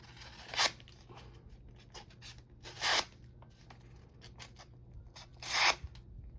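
An Ozark Trail knife cuts through material in three short, close rasping strokes, each a sharp scraping burst separated by a couple of seconds of quiet.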